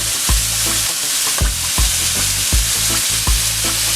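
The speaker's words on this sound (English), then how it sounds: "we're just going to put it on the fat side and let it cook there for 2 minutes" A steak sears fat side down in a hot pan, giving a loud, steady sizzle broken by a few sharp crackles and pops, with no talking.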